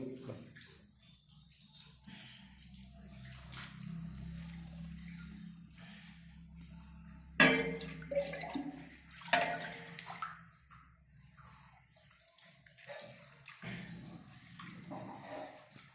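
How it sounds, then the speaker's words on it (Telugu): Water is poured from a pot over a Shiva lingam during an abhishekam ritual, a continuous splashing trickle with louder bursts midway, set against people talking nearby. "నీళ్ళు పైన అట్లా పోసేసి కడిగేస్తూ ఉండండి."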